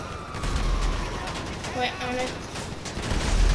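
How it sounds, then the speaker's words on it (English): Rapid bursts of gunfire crackle in a GTA 5 police rampage, aimed at a tank, dense and sustained through the moment with someone talking briefly over the shooting. "I just want to shoot the tank, dude."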